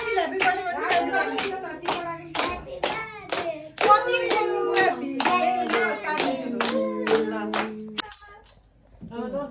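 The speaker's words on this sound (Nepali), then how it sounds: "एकचोटि सबैले भरर ताली बजाऊ त" People at a home birthday party clapping hands in quick, regular beats for about eight seconds, close and fairly loud, with voices singing or calling along before the clapping stops.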